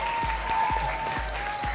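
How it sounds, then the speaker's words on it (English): Studio audience applause on a children's television show, a steady clapping wash with a few low thumps beneath it, continuous throughout. "Give them a round of applause"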